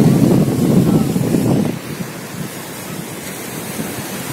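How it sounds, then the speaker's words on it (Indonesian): Ocean waves breaking on Gandoriah beach in West Sumatra: a loud, rushing surge of surf at first, settling into a steady wash and hiss with heavy wind buffeting the microphone. "Sementara di hadapan ada anak-anak bermain ombak"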